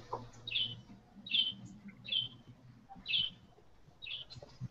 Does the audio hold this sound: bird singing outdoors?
yes